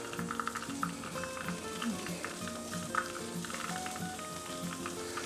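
Butter goes onto fish over a hot 450-degree grill fire, giving a soft, steady sizzle with light crackles and small taps, fairly faint and close, with no talking.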